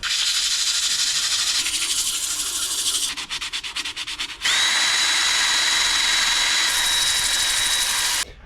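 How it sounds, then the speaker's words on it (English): Loud power sanding of a wooden bowl on a lathe, a steady high whir changing pitch partway as the sander shifts pressure, continuous and close with no talking. "we're gonna get to sanding this"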